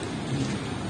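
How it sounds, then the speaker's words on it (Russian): Steady wet hiss of rain mixed with snow falling on an Odesa street in freezing weather, a continuous broadband wash with no voices. "И этот дождь, снег идет и подмораживает."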